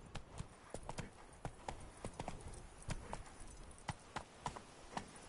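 Horse hooves clip-clop steadily at a walking pace, each strike a sharp, fairly close knock over faint outdoor background, with a few irregular beats and no talk.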